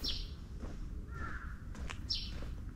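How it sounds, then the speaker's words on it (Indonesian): A distant crow in a dense residential area in Japan gives a few short harsh caws, faint over a low outdoor hum. "di sini tuh kalian dengar nggak sih ada bunyi gagak?"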